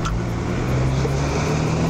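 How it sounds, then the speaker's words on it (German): A BMW X3 E83 with a newly fitted intercooler accelerates, its engine droning steadily with a faint high turbocharger whine mixed into the constant interior road and motor noise. "Man hört auch richtig den Turbo wieder"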